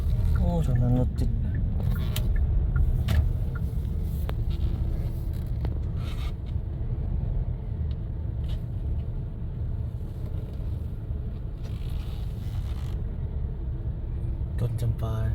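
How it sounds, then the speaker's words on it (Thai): Heavy traffic jam on a Vientiane street, a continuous low rumble of idling and creeping cars close by, with a voice talking over it. "ตรงนั้นรถติด"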